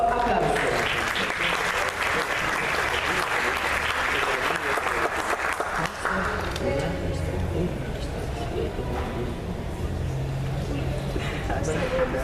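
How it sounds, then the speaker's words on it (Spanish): Audience applause at a book presentation on distance education, a dense sustained clapping from a crowd that holds steady and then thins out, with voices talking over it. "Le brindamos un caluroso aplauso."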